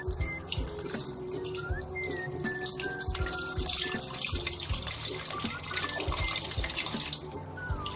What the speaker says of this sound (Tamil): புளியும் தக்காளியும் பிழிஞ்ச தண்ணியை இந்த பாத்திரத்துக்கு வடிகட்டி ஊற்றுறாங்க